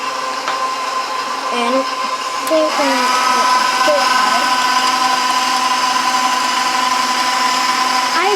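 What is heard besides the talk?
electric mixer mixing egg into cake batter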